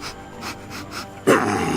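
A dog growls while chewing a toy, giving short rough pulses of breathy rumbling close by, ending in a louder growl.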